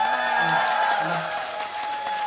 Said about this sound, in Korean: 저보다 더 우리 고생이 많으신 우리 단원들께 박수 한 번 쳐주세요